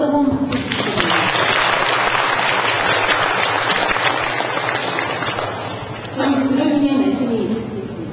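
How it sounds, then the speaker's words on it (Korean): Warm applause for six prize winners of a sermon contest at a religious anniversary concert: a dense, loud wave of clapping from a hall audience that fades slightly, then swells again near the end. "오늘 모의수교 대회에서 입상을 하신 여섯 분 모두에게 다시 한 번 더 뜨거운 박수 부탁드립니다."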